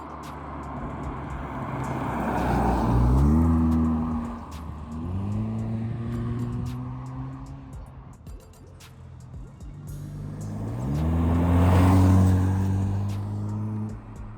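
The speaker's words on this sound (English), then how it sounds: "Just taking the car for a little spin." A rebuilt Mazda CX-3 drives near Sunset Beach, its engine revving up through several gear shifts with rising and falling pitch. Road and wind noise stay steady underneath, and the sound is close and moderately loud.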